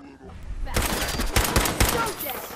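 A quick volley of loud gunshots from a gun in Fallout 4 firing at a raider, several sharp cracks in close succession following a short quiet lead-in.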